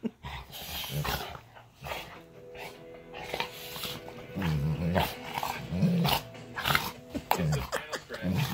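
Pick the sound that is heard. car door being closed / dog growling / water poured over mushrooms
dog growling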